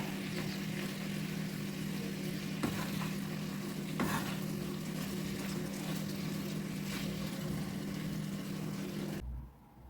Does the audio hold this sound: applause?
no